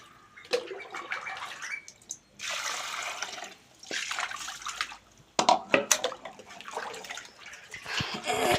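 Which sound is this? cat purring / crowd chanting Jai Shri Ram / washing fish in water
washing fish in water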